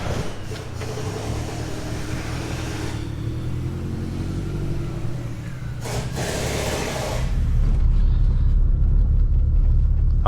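A tuned 1.8T Mk2 car engine running on ethanol fuel on a dyno, a loud, steady, close rumbling drone that swells into a harder, louder pull toward the end.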